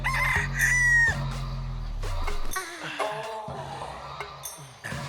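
A rooster crows loudly up close, one long drawn-out cock-a-doodle-doo followed by softer clucks and scattered farmyard noises.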